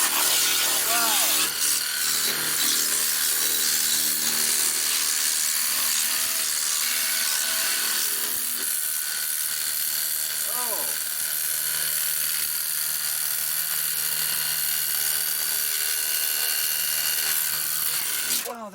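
A cordless portable high-power pressure washer sprays a car wheel rim, peeling paint and dirt, with a continuous bright hissing whir that holds steady for the whole stretch while a man exclaims over it.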